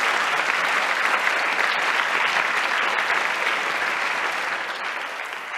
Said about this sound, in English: So please, a big round of applause for the two of them as well.